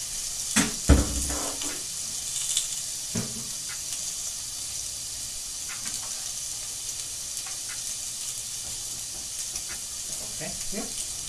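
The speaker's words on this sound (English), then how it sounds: "Have a nice char on it because the sizzle the grill is really hot." Korean beef sizzling on a very hot barbecue grill, a steady bright hiss throughout with a few sharp crackles and pops early on, close up and with no talking.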